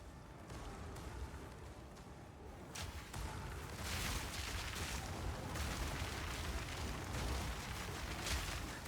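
Deep, rumbling explosion in the Path of Exile 2 action game, a grenade blast with a broad, noisy boom that swells after a few seconds and keeps roaring with bursts over a steady rumble.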